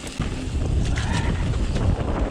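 Gusty wind buffets the microphone on a craggy mountain trail during a blizzard, a loud, continuous low roar that swells slightly, with no talking.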